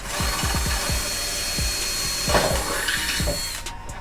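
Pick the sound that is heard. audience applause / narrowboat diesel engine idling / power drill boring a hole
power drill boring a hole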